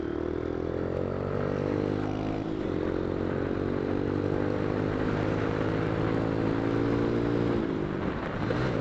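A motorcycle engine hums steadily while riding on a road near Pashupati, with a continuous droning note that rises and falls slightly, plus rushing wind noise throughout.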